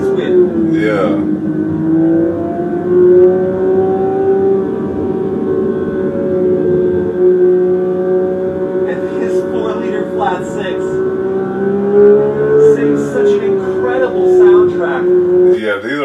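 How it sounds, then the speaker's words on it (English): A Porsche 911 GT3 with a 4-liter flat-six engine gives a sustained, tonal engine note that holds a steady pitch and swells slightly a few times, loud and close throughout. "these are one of the best sounding engines. So 4-liter flat sixes."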